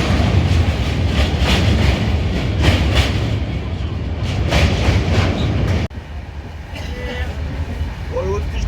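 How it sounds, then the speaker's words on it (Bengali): A passenger train pulls away and runs on the rails, giving a loud, rumbling clatter with rhythmic wheel knocks that drops to a smoother, quieter roll near the end. "ট্রেন ছেড়ে দিল, তো ঠিক 1:10-এই ট্রেনটা ছাড়লো।"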